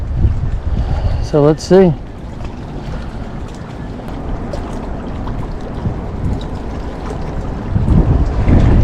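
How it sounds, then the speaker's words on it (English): Strong wind buffets the microphone at a shore fishing spot along the St Augustine coast, a steady low rumble throughout that swells louder near the end, with someone speaking briefly near the start. "The wind's coming at me here."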